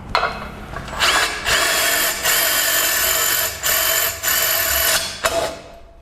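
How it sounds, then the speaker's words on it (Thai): Impact driver boring into thin ceramic tile with an Onishi Japanese-made drill bit, a close, loud steady whine in several long bursts separated by brief pauses, with no talking. "การใช้ Impact Driver เจาะปูน เจาะกระเบื้อง"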